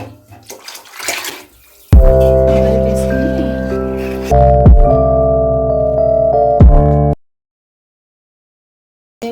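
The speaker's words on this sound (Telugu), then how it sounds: "నీళ్ళు మితంగా పోసేస్తాను" Water poured from a vessel onto rice in a pot for chicken biryani, a loud, close, steady gushing stream lasting several seconds with a brief pause mid-pour, then silence.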